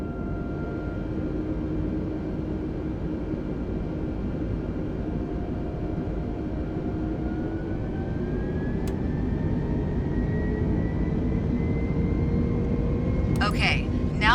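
Simulated A320neo jet engines spool up for takeoff, a loud steady roar whose whine rises gradually in pitch midway, followed by a few brief clicks near the end.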